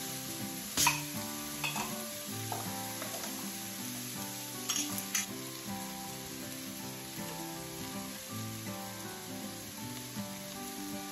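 Minced garlic and diced tomatoes sizzle in a pan for stuffed bell peppers, a steady frying crackle under a few sharp clinks of a utensil against the pan.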